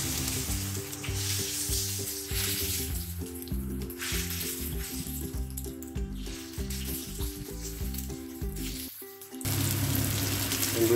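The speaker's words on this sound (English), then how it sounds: "Oil is hot, let's start frying the chicken." Marinated chicken breast shallow frying in hot oil in a pan for a ginger garlic dish, with a loud, steady sizzle and crackle that carries on throughout, with no voices.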